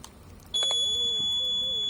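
After a soft click, a steady high-pitched signaling tone from a SPENDER TC-245PMR PLUS radio transceiver sounds continuously, clean and fairly loud, with a faint wavering undertone.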